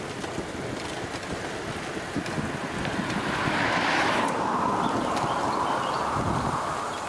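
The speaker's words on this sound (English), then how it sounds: "There's a bit of a wind now and again as well, which is nice." Wind gusting outdoors on a recumbent ice trike ride, a steady broadband rush with microphone buffeting that swells louder around the middle and holds, no talking.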